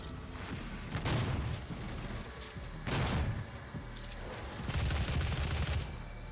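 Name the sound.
big gun firing in the video game Doom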